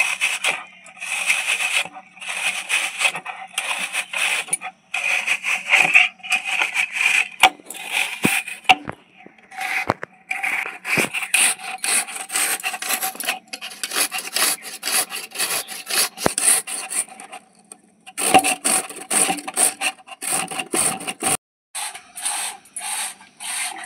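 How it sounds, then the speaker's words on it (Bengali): Raw potatoes being grated into long strips produce quick, repeated rasping scrapes in uneven bursts, close and fairly crisp, with a few brief pauses between runs of strokes. "দেখুন এভাবে লম্বা লম্বা করে আমি গ্রেট করে নিচ্ছি"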